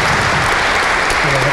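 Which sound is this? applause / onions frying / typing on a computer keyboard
applause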